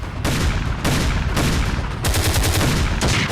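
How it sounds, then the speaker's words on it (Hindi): Army artillery and shells fire in the Rajasthan desert, a dense, continuous roar of rapid blasts in several loud surges with brief dips between them. "राजस्थान की रेत में थल सेना के तोप और गोले बरस रहे हैं"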